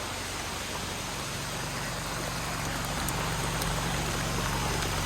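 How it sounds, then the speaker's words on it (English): Heavy rain pours steadily at a construction site where a shed foundation is being laid, a dense, constant wash of noise with no breaks, close and loud throughout. "it just started pouring on us"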